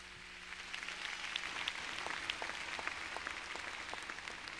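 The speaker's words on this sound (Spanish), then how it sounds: "Si va a darles aplausos, déselo fuerte al Señor." A church congregation applauds for the Lord, a steady wash of many hands clapping at moderate distance, rising slightly and continuing throughout without speech.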